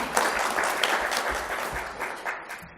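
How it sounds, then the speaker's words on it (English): An audience at a broadband and PEG conference applauds, with steady clapping from a medium-sized crowd in a room that tapers off toward the end. "Got applause, and I haven't said anything yet"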